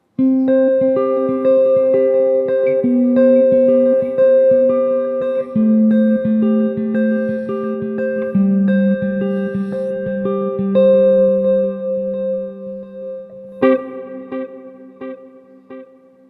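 Electric guitar through a Nux MG-400 multi-effects unit plays sustained chords and melodic notes drenched in spacious damp reverb, steady and prominent throughout, with a brighter strummed flourish near the end.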